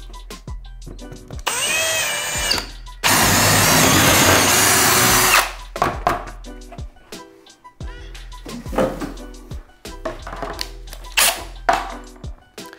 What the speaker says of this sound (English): So we're gonna go ahead and drill the top hole